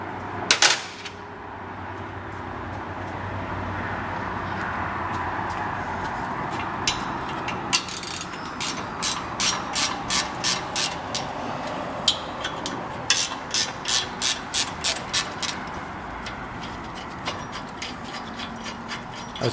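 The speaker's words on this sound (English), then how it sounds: "The bolts back here take a 17mm wrench." 17mm ratchet wrench working on the front brake caliper bracket bolts of a 2015 Kia Forte 1.8L, with bursts of rapid metallic ratchet clicks over a steady background hum, close and moderately loud.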